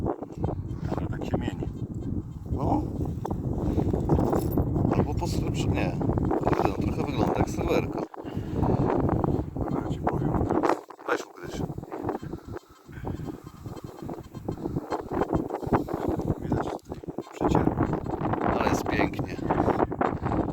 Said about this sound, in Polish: Nawet wieje tak przyjemnie, co?